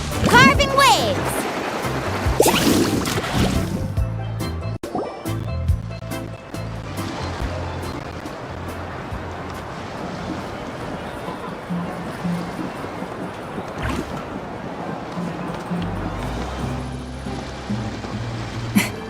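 Surfing on water waves in the video game Genshin Impact gives a continuous rushing, splashing wash with bursts of spray and occasional sharp effects, while voices talk over it.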